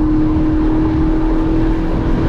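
The 4.0-litre engine of a Porsche 718 Boxster GTS gives a loud, steady drone with a strong, even hum and no clear change in pitch over the short stretch.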